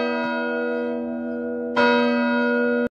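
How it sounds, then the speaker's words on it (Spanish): Big Ben clock tower bells in London, two strong chimes ringing out with long sustained humming overtones, the second struck about halfway through and cut off at the end. "En Londres esperan las 12 campanadas en el famoso reloj de la torre de Big Ben."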